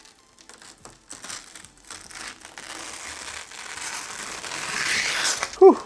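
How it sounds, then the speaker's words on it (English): Protective plastic film being peeled off a PC case's tempered glass panel, a continuous crinkling, crackling rustle that grows louder and ends with a sharp short squeak, no talking. "Let's go ahead and put this tempered glass on, and we got to take off the plastic."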